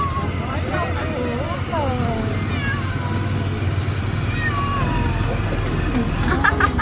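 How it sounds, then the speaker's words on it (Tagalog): A cat meows several times with rising and falling cries amid a busy outdoor scene in the Philippines, partly masked by constant engine rumble and people talking nearby. "May pusa pa doon!"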